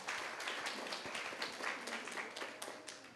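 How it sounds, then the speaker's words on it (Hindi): Audience applause welcoming participants at a bhajan devotional music evening, a dense steady wash of many hands clapping throughout, fairly distant in a hall. "जोरदार तालियों से"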